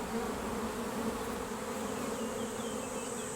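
Honeybees foraging on a mix of flowers outdoors give a steady, close, continuous buzzing drone with no pauses, several insects humming together at an even level.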